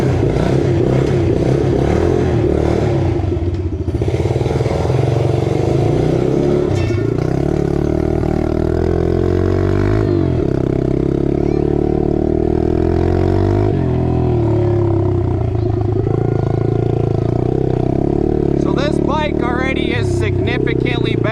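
Engine of a 2026 Yamaha 110 motorcycle revving up and down and faltering as if about to cut out, loud and close, with shifting pitch and clattery moments throughout.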